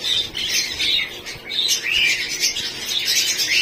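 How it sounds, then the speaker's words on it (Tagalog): Many cockatiels in an aviary chirp and squawk continuously in high, bright calls, a dense overlapping chorus with no pauses. "Madami kakatail."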